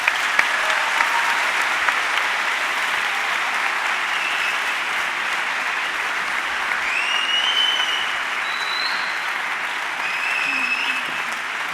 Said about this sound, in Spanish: Les voy a pedir un fuerte aplauso para una de las escritoras gallegas más importantes